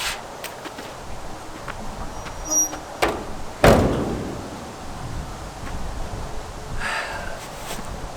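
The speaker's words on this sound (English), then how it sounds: "Now it says to close the door and let it seal up." An outdoor wood furnace door is swung shut to seal against freshly replaced door rope, giving a single firm thud partway through, with a few faint knocks and quiet outdoor ambience around it.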